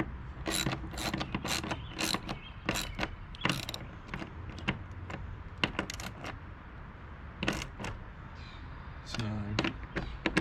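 Bolts on a Rough Country Jeep JK roof basket are tightened with a ratchet, making quick, close clicking bursts that stop and start again, with short pauses between runs.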